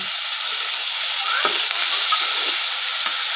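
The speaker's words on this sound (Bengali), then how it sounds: "আলতো হাতে আমি মিশিয়ে নিচ্ছি করল্লা" Bitter gourd (karela) with turmeric, green chilies and a little salt gently stirred as it fries in a pan. A steady close sizzle and hiss runs throughout, with a few soft spatula scrapes.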